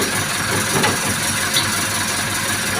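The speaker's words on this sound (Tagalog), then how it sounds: "ipapa-start ko lang po yung makina uli" A car engine idles steadily at close range with a continuous low rumble during brake bleeding.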